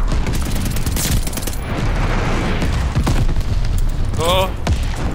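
Glide bomb explosions and heavy gunfire in Call of Duty Vanguard multiplayer, a loud continuous barrage of booms and rattling shots with a brief game tone near the end, close and dense.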